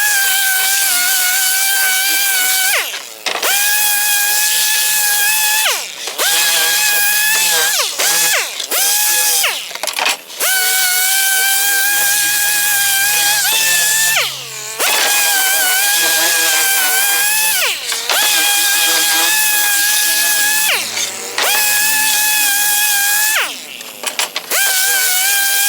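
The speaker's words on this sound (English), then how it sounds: "we're going to sand out those little jagged edges" Sandpaper of 80 grit worked by hand over the jagged cut edges of a wooden bandpass subwoofer box, giving a loud, steady rasping scrape with repeated strokes and brief pauses, no talk.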